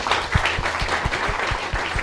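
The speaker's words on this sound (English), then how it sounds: "let us give her a round of applause" An audience at a youth agri-food trade fair and expo in East Africa applauds a presenter, a dense, loud wash of clapping lasting about two seconds with rhythmic low thumps running underneath.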